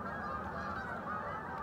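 A large flock of geese honks on the way to a lake, a dense, continuous chorus of overlapping calls that sounds loud and fills the air without any talk.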